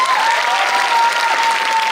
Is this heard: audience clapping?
yes